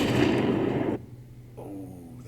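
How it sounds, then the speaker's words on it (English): A loud explosion in the space strategy game Endless Space 2 hits at once and rumbles broadly for about a second, then cuts off sharply, leaving a faint quieter tail with no talk. "That was a nice explosion"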